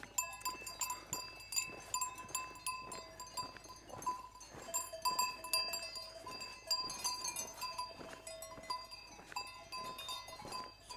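Cows graze an alpine pasture at Creux du Van, their bells clanking and tinkling irregularly nearby and farther off in a continuous overlapping jangle, with no talking.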